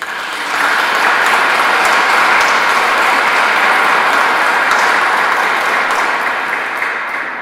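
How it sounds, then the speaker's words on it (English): A crowd of wedding guests claps for the newly married couple in a long, dense, steady round of applause that stays loud for several seconds before easing off slightly at the end. "So give them a big clap."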